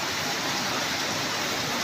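Heavy rain falls over Muntinlupa in the Philippines on an October afternoon. It makes a steady, dense, hissing roar that fills the whole moment evenly, with no voices over it.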